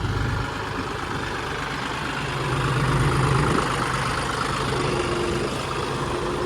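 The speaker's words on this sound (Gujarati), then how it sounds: "અને ટ્રેક્ટર હાલે છે અંદર" A tractor engine runs steadily in a farm field, a continuous low rumbling drone that swells slightly in the middle, close and fairly loud with no voices.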